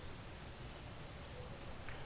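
Steady rain falls at an amusement park on a wet day, a constant even hiss of drops with no voices.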